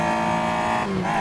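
A Caterham Clamshell in the Assetto Corsa racing game hums along with a steady engine drone rich in harmonics, its pitch dipping and shifting near the end as the revs change, close and continuous.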